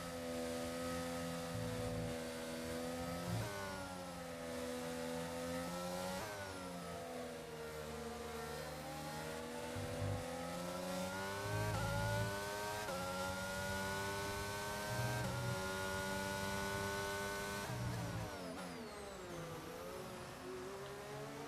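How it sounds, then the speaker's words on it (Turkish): A McLaren Formula 1 car in the F1 22 racing game on the USA circuit screams at high revs, rising through gears with repeated upshifts and dips under braking, steady and loud with no talk. "McLaren aracının sesini çok seviyorum gerçekten. O yüzden sizi biraz McLaren aracının sesiyle baş başa bırakıyorum efendim."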